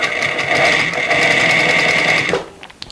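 A sewing machine stitches a knit dress in a steady, close, humming whir with a fast mechanical rhythm, running for over two seconds before stopping abruptly.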